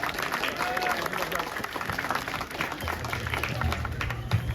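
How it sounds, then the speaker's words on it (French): Audience applauding at a celebration, a dense crowd of clapping spread wide and steady, with voices mixed in underneath. "on l'applaudit. Plus fort!"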